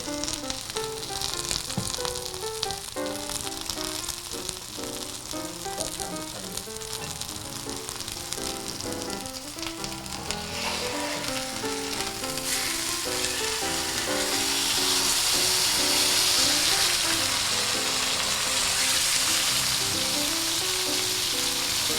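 Butter sizzles alongside steak on a hibachi griddle, a steady, moderately loud frying hiss with scraping and stirring clinks, the sizzle swelling brighter toward the end; nobody talks.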